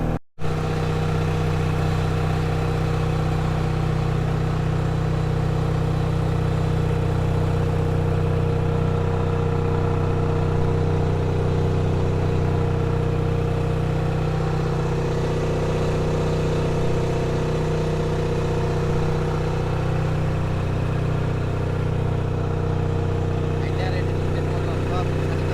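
Trawler boat engine droning at a steady, loud low throb, constant and unchanging throughout, with people talking in the background.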